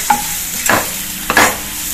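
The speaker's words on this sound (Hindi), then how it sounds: "और अब हम इसमें डालेंगे थोड़ी मटर डालेंगे। ये फ्रोजन मटर है" Frozen peas fry and get stirred in a hot pan for baingan bharta, a steady loud sizzle with two scraping stirs of the spoon, close and without talk.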